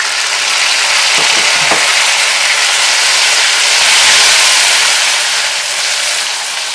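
Onions, ginger, garlic and tomatoes fry in a pan for gobhi keema, a loud, dense, steady sizzle throughout, with a few soft stirring scrapes near the start and no talk.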